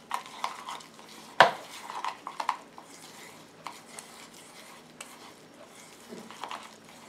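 A solid monoi shampoo mixture is stirred in a bowl, giving soft scraping and clinking of a utensil against the container, with one sharp knock partway through and irregular quieter strokes after.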